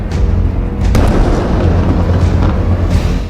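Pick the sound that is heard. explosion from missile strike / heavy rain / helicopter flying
explosion from missile strike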